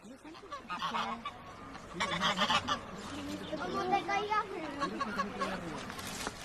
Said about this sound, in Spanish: La banda sonora omnipresente es el canto de los pájaros.